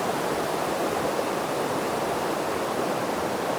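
Waterfall stream at Chae Son hot springs in Lampang, a dense, steady broadband rush of falling water, loud and unbroken for the whole stretch with no voices.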